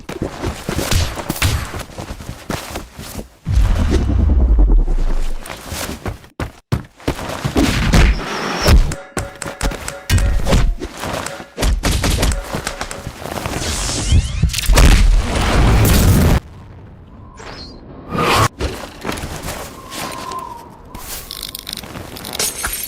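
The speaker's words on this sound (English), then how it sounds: "I will have to turn down the sound on that explosion though, because it was very loud" Loud explosion sound effects in an animation, a series of heavy booms and thuds with gunfire-like bursts and mechanical clatter, dense and punchy, swelling and cutting off abruptly.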